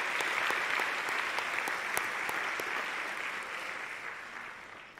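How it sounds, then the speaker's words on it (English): An audience applauds at a Washington Youth Academy graduation ceremony, with dense sustained clapping filling a large hall that stays steady and loud before gradually tapering slightly. "Let's give them a round of applause."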